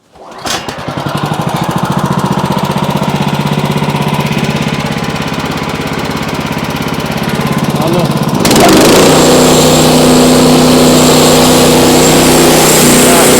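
A sawmill's loud engine roars steadily, then a harsher, higher-pitched cutting whine takes over as the blade bites into a wide log, continuing without a break.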